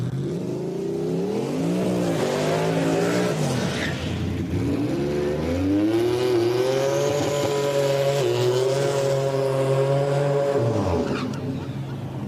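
Turbocharged drag racing trucks, one a single-turbo Coyote, revving and launching at a Christmas-tree drag race, with loud sustained engine roar rising and falling in pitch through gear changes over several seconds.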